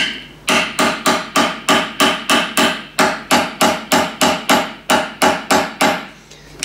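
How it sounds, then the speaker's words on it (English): A ball-peen hammer taps a shop-made countersunk aluminium rivet into its hole, about twenty sharp, close metallic strikes in a quick, even rhythm with brief pauses between groups. "for a countersunk rivet, you just tap it down into the hole"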